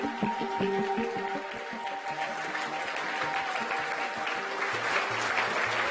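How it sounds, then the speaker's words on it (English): A conference audience applauds, sustained dense clapping from many hands filling the room at an even level throughout. "please can you give my team the biggest round of applause?"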